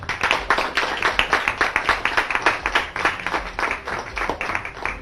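A studio audience at a Pakistani TV quiz show's 14 August special breaks into dense, steady applause, many hands clapping together loud and close throughout with no voices over it.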